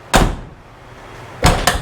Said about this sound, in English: The door's even shut nice and tight.